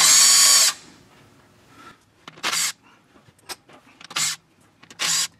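Power tool zipping out the 10mm bolts that hold the transmission filter on a 2007 Toyota Tundra, with several short, loud whirring bursts separated by pauses and light clanks, close by with no talking.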